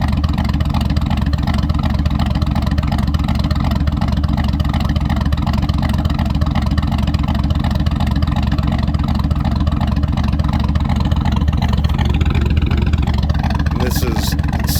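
Truck engine with a BTR Truck Norris cam and stock torque converter idling in gear around 660 rpm, a loud steady lopey rumble with choppy rhythmic pulses throughout, close and continuous, no talking.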